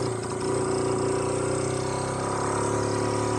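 A Honda Cub small motorcycle engine running steadily after slipping out of gear, a continuous mid-pitched idle hum with a faint rev, close and alone.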